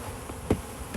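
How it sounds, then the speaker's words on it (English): Honey bees buzz around an open hive during an inspection, a faint steady hum with one brief louder burst as a bee passes close. "the bees that are flying are mostly"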